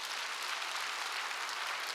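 A church congregation claps during a Wednesday worship service, a dense, steady applause heard alone for a couple of seconds.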